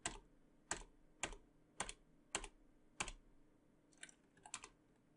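Keys clatter on a computer keyboard while a command is typed: about eight quiet, close, evenly spaced keystrokes with a quick double tap near the end, in an otherwise silent room.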